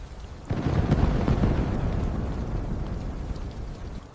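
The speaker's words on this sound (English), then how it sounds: "Everyone run to the car before the thunder gets any louder." Thunder during a rainstorm, a deep rumble breaking in sharply after half a second and rolling on steadily over the hiss of rain, loud and continuous with no talk.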